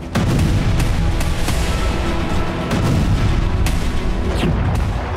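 Bomb explosions from Israeli bombardment in Tulkarm, West Bank: a loud, dense series of booming blasts and sharp cracks following one another over a rumbling background.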